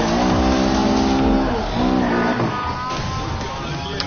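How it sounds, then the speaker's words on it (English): A car's engine revs loudly with rising and falling pitch as it drives and drifts in Need for Speed Rivals on PS4, its tone sweeping through gear changes, with tire noise mixed in. "And you can drift the car."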